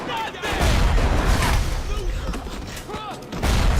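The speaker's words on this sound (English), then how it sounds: "They're frag grenades." Frag grenade blasts and gunfire crackle through a Bioshock battle, heavy booming bursts rolling one after another with a voice talking over the din.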